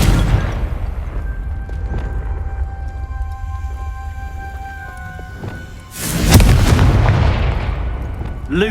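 A Confringo fire spell blast in Hogwarts Legacy, a sudden loud booming burst that erupts midway and rolls into a rumbling tail over a low, droning background.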